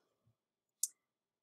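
A computer mouse gives a single sharp click near the end, preceded by a faint tap, both brief and close against near silence with no talking.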